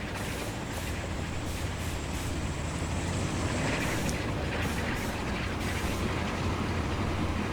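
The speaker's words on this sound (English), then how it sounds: "There's my Uber train right there yet. It's quickly arriving." A train arrives in the video game Transport Fever 2, a steady, loud rumble of rolling wagons and engine noise that keeps going without a break, with no talking.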